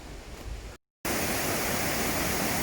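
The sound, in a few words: Cascade du Dard waterfall near Chamonix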